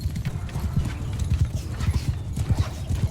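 Horses galloping across a Mount & Blade II Bannerlord battlefield, a dense, steady clatter of many hooves close by, rolling continuously with no voices over it.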